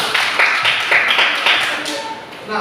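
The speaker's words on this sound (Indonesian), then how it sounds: "tepuk tangan buat teman kita Mary" Classroom applause for a student named Mary, a short burst of many hands clapping at close range, lasting a couple of seconds with a teacher's voice faintly underneath.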